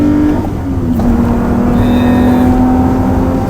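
A Lotus Evora with a 280-horsepower engine accelerating on the road, a steady droning engine tone that rises slightly in pitch, heard from inside the car with constant road noise and no talk.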